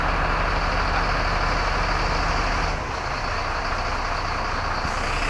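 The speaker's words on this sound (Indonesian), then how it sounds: "diberangkatkan bis ALS Nopin 221 menuju Kota Medan" An ALS intercity bus departing for Medan, its diesel engine rumbling loudly nearby with a low steady hum that drops a little partway through, no voices.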